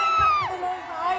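A Christmas festival crowd in an old town cheers and whoops, with rising and falling shouts and yells of mixed pitch over a brief stretch.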